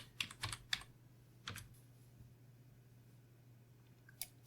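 Computer keyboard typing a root password during a CentOS 8 installation: a few quick soft key clicks near the start, one more around mid-clip and a last tap near the end, with quiet room hum between.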